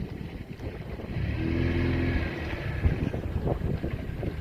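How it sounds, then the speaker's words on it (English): Steady wind rushing across the microphone on an open boat touring Okefenokee Swamp, a continuous low roar with a faint motor hum underneath and no talk. "Wind's blowing us bad."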